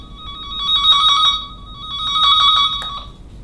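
Two bursts of a shrill electronic warbling tone, loud and close, separated by a short pause.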